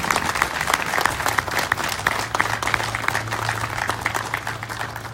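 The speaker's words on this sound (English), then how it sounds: "I think we need to give a round of applause to all of our veterans who are here today." Audience at a ribbon-cutting ceremony for a county administration building applauds veterans, a steady round of crowd clapping with a faint low hum underneath.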